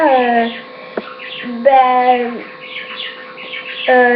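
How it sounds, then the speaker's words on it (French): Several birds call and chirp in loud, repeated bursts with rising and falling tones, close by and overlapping, with a low steady hum underneath. "si vous entendez des oiseaux crier, c'est normal"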